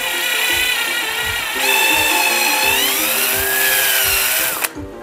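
A power drill with a very small bit boring into the wooden wedge of an old axe handle, whining steadily and loud up close with a shifting pitch as the bit bites, then stopping abruptly at the end.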